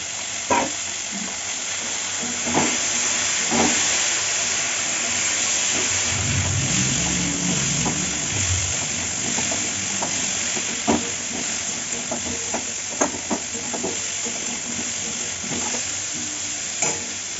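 Cubed banana stem and potato frying and being stirred in a pan, giving a steady close sizzle with scattered scraping clicks and a brief low rumble partway through.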